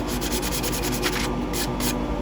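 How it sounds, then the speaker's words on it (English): Close hand sanding on a woodturned box, a steady gritty rubbing with rhythmic back-and-forth strokes that continue throughout. "some of this will have to be a little bit of hand sanding, really."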